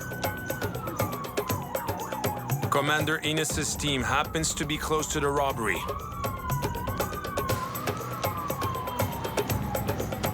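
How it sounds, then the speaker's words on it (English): Police car sirens wail and sweep up and down as the cars speed through city streets in Thailand, loud and close, with someone narrating over them. "Police cars speed through the city."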